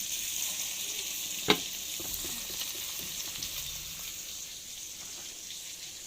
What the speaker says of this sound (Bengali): মাছ রান্না করতেছি রুই মাছ লাউ দিয়ে রান্না হবে